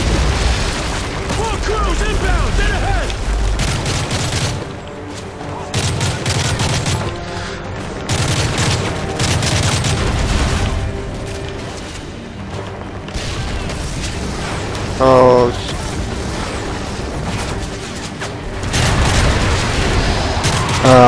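Sustained bursts of gunfire and booming explosions from Modern Warfare 3 gameplay, dense and continuous for about twenty seconds with overlapping game voices.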